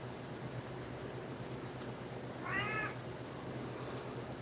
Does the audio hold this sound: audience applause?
no